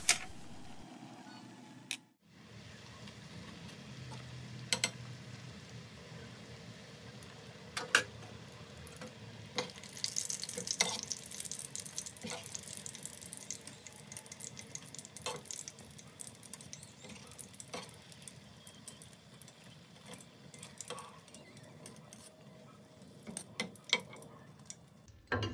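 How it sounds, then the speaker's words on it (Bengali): Chicken nuggets frying in hot oil, a faint, steady sizzle with scattered ticks and pops running on throughout, quiet and close with no voices. "ভাজতে বাকি থাকা চিকেন নাগেটস এই তেলের মধ্যে দিয়ে একইভাবে ভেজে নেব"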